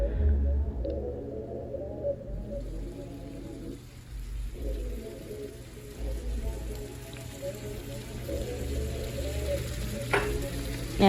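Lasagna meat sauce ingredients being mixed in a pan: a soft, continuous sizzle with low scraping and stirring movements and occasional clinks, fairly quiet throughout.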